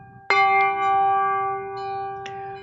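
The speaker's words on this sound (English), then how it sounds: "We got a gong." A gong is struck once, giving a sharp hit followed by a long, ringing metallic tone that slowly fades, with a faint second tap near the end.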